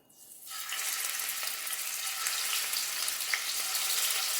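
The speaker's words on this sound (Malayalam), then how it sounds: "എണ്ണ നന്നായിട്ട് ചൂടായിട്ടുണ്ട് നമുക്ക് മീൻ കഷ്ണങ്ങൾ ഇട്ട് കൊടുക്കാം" Fish pieces hit hot coconut oil with a sudden loud sizzle that builds within half a second and then holds as a steady, close, crackling hiss.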